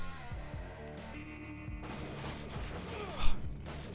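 Gunfire in a shooting video game against desperados: sharp, repeated shots and impacts scattered through a busy game soundscape, with one louder burst near the end.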